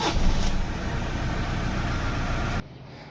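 A Toyota car engine turns over and runs with a broad, loud rumble, then drops abruptly to a quieter idle near the end, heard up close.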